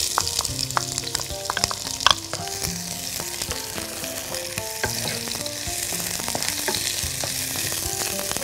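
Sliced onions frying in rendered sausage fat, a steady sizzle with frequent crackles and a sharp pop near the start, heard close up without talk.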